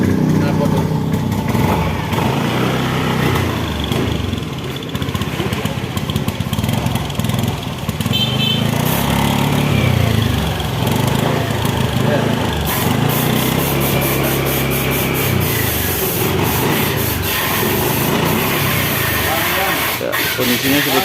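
A Honda Beat ESP scooter engine revs loudly at close range, its note sputtering and stumbling unevenly instead of climbing cleanly, throughout the whole stretch.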